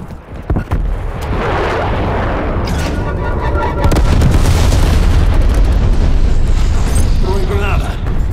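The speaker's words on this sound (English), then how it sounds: "Enemy napalm strike incoming." A napalm strike rains fiery explosions during a Call of Duty Black Ops Cold War Hardpoint match on Nuketown '84, a loud, sustained roaring blast with crackling bursts and rumble, layered with game chatter and voices.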